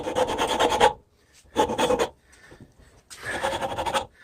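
Three bursts of coarse rasping, a four-in-hand rasp scraping back and forth over a wooden hammer handle in quick strokes, close and fairly loud with short pauses between.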